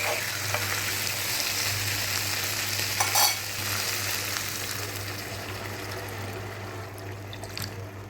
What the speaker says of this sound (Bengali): মশলার মধ্যে মাছগুলো দিয়ে নাড়াচাড়া করে পানি দিয়ে দিব